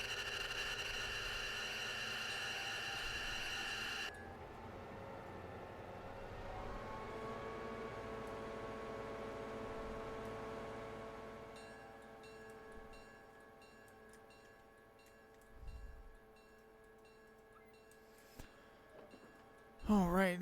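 A freight train rolls past on the railroad: a steady, continuous rumble and wheel drone that builds and fades over about twenty seconds, with a few sharp knocks and clanks near the end.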